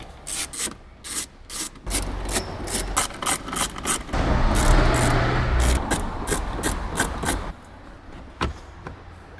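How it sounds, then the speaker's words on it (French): A Honda Civic EK4 center console is taken apart: close, repeated rubbing and scraping bursts in an uneven rhythm, with a longer continuous scrape in the middle. "Donc déjà première étape, démonter la console centrale là."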